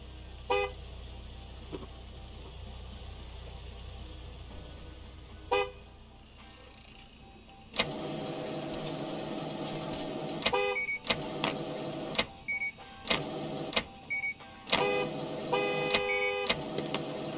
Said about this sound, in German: Ihr könnt so viel hupen da draußen, wie ihr wollt.